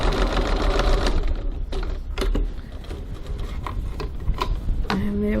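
A sewing machine stitches a bag lining for a crossbody bag, a close, loud, rapid run of needle strokes with a few mechanical clicks and a brief hum near the end, no talking.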